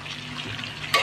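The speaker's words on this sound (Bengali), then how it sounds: "নেড়ে চেড়ে নেবো।" Chicken curry with Kashmiri chilli powder, turmeric, cumin and salt is stirred in a pan, giving a soft continuous sizzle and scrape, with a sharper clatter right at the end.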